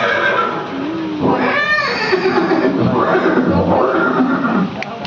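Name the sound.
horse neighing, museum display of Maharana Pratap's horse Chetak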